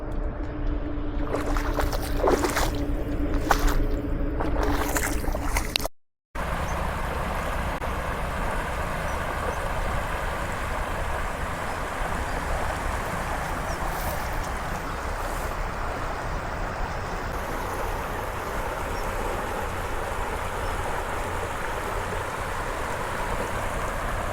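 Floodwater from heavy rain rushes across farm fields like a river, a steady broadband roar that carries on without a break, close and loud, with a few brief knocks early on and no talking.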